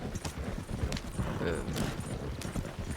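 Horse hooves clip-clop steadily at a gallop while the horses pull a wagon in the Red Dead Redemption 2 video game, heard amid busy game noise and music.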